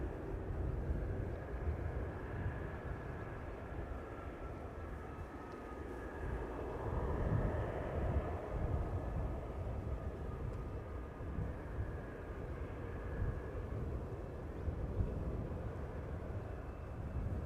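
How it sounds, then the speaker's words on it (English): An Airbus A330 airliner rolls out at Amsterdam Schiphol after landing, heard as a faint, steady distant jet rumble with a thin engine whine for about seventeen seconds. "There's the A330 that just now landed here."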